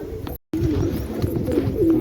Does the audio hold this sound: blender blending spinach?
no